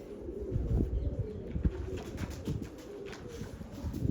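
Soft, low pigeon cooing murmurs repeatedly in the background from pigeon coops being cleaned, faint and close together, with no talking.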